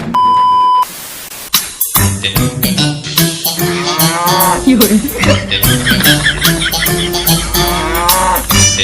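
A cow licks a man amid a loud, busy mix with beeps, a sustained low moo and clustered bursts of sound, all close and dense from start to finish.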